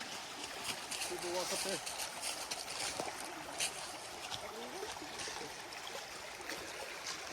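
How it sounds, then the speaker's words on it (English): A creek flows along the Tea Kettle Falls hiking trail with a steady, near rushing and trickling wash, while people talk briefly over it. "Look at this. Beautiful creek."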